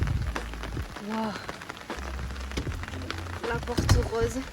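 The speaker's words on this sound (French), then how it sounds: "Il pleut." Rain falls on a rooftop in South Korea, a dense patter of drops hitting nearby surfaces with scattered sharper taps, while a voice and some footsteps or movement sound over it.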